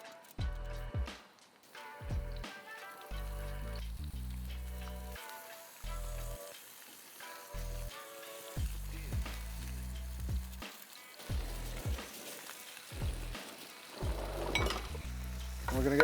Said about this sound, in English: Pan's hot. We're gonna go pork in first, right?